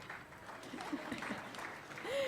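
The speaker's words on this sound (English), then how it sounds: "We can applaud for that." Light, scattered applause from a small audience at a Rotary club meeting, soft and somewhat distant, with faint voices and room noise underneath.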